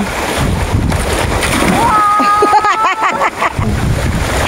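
Someone jumps into Yambo Lake in Nagcarlan, Laguna, making a splash that rises briefly through steady wind noise, with excited voices shouting around it.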